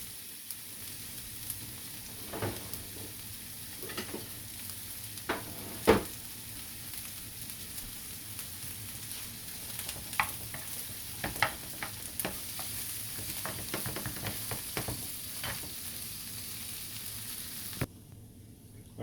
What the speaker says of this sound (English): we're gonna put our vegetables in our pot over here. Get this sauteed up.